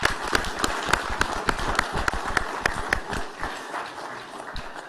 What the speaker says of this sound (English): let's clap for you again